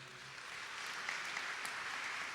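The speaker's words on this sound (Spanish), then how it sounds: "vamos a darle un aplauso de bienvenida" Church congregation clapping to welcome a woman preacher at a morning service: a faint, even, sustained patter of hands from a distance, with no talking over it.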